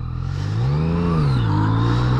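Yamaha FZ-09 motorcycle engine cruising, a steady close hum that rises and falls gently in pitch as the throttle shifts, with no talking.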